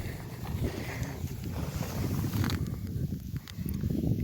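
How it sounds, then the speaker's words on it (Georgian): Strong gusting wind buffets the microphone outdoors during shotgun test firing, in a continuous low roar, with occasional knocks and rattles over it. "ცოტა ქარი არის და გამოვარდა ქარი"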